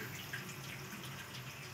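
Steady, faint hiss of hot water streaming from a tap while a boiler stays silent, continuous and even throughout, heard from a short distance with no voices.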